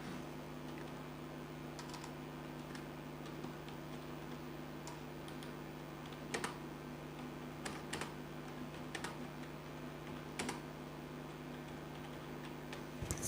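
A footnote being typed in LibreOffice Writer on a computer keyboard, with quiet, irregular key clicks and occasional sharper taps over a steady low hum from the room or computer. No one talks.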